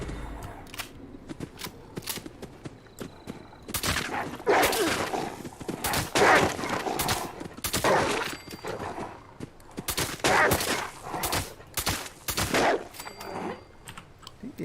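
Gunfire in Fallout 76: a rapid series of sharp, loud shots in irregular bursts and clusters, with quieter clicks and mechanical sounds in the gaps.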